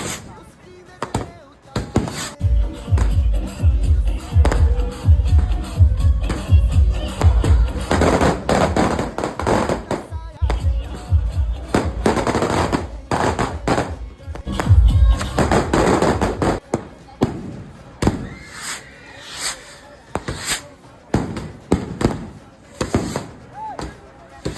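Firecrackers explode at night during a Vinayaka Chavithi celebration, a long loud barrage of rapid, irregular bangs and crackling bursts, close by, with brief lulls between volleys.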